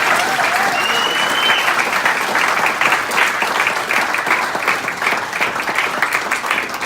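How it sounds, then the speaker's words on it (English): Wedding guests give sustained, loud applause after a speech at a reception, a steady wash of many hands clapping with a few voices underneath. "give her a big round of applause"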